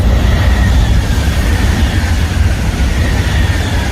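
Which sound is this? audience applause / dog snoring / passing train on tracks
passing train on tracks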